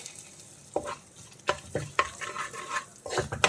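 Turmeric and asafoetida powders stirred into a hot tempering over low flame for lemon rice, giving a soft steady sizzle broken by several sharp spoon scrapes against the pan, close by with no talking.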